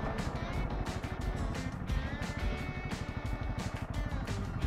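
Adventure motorcycle engine rumbling steadily up close as the rider pulls over and shifts into neutral, continuous low throbbing with wind noise and a voice talking over it.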